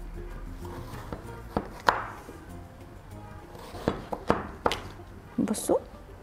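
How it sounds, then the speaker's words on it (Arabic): A knife chops taro into long finger-shaped pieces on a cutting board, giving a series of sharp, irregular thunks, some close together, under a person talking. "اقطع اهو صوابع طوليه اهو عشان تبقى كلها قد بعضها"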